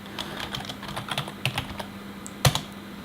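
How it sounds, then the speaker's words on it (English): Keys clatter on a computer keyboard as a command is typed into a terminal, a quick run of close, light clicks ending in a sharper keystroke like a final Enter press, with no talking. "So there we type npm install."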